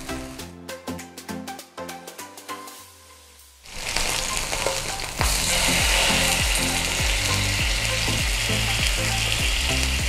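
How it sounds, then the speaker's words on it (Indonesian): Salmon skin-side down frying in a hot pan to crisp the skin, a loud steady sizzle and spatter that swells partway through, preceded by some scraping and tapping of utensils, with no talk. "Kita sudah masuk salmonnya dan kita akan membuat kulit salmon menjadi crispy."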